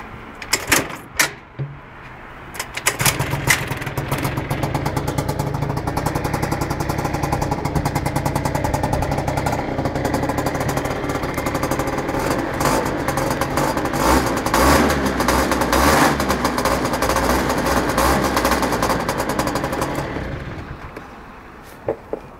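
A VivaCity 100cc scooter fitted with a new sports exhaust revs up close by, its engine holding a loud, buzzing, sustained drone for about twenty seconds, with a few short blips before and after.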